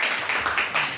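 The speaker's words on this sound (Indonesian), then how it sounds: "Sekali lagi berikan tepuk tangan deh untuk Yesus kita yang luar biasa ya." Church congregation clapping during an Indonesian Sunday worship service, a dense wash of hands applauding together at moderate level with no distinct voices over it.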